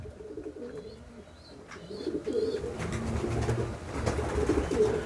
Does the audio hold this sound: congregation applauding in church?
no